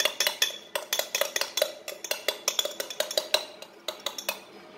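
A spoon stirs flattened rice (avil) into a milk drink in a jar, giving rapid, steady metallic clinks and scrapes against the container, close and clear with no talking.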